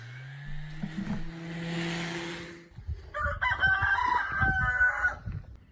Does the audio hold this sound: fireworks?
no